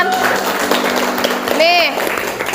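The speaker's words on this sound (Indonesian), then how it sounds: "Kasih tepuk tangan." Classroom applause for the top three students at the end of a lesson, a short burst of clapping mixed with children's voices and a high squeal or call rising briefly over the noise.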